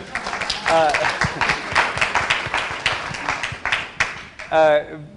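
A burst of audience clapping and cheering fills the room, mixed with voices talking over it, swelling again loudly near the end.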